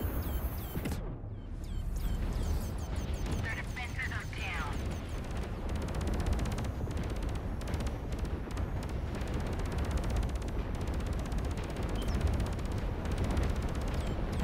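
Ship weapons in the Fractured Space video game fire in a dense, continuous barrage of rapid bursts and booms, loud and sustained, with a voice talking over it.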